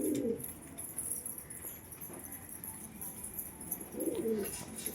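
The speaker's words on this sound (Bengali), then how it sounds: "দেখুন গাইস, সব জোড়াধারী পায়রাগুলো খাবার খাচ্ছে" Pigeons kept in pairs in a pigeon house coo while eating their feed, with two soft, close, throaty coos at the start and near the end over a low background rustle.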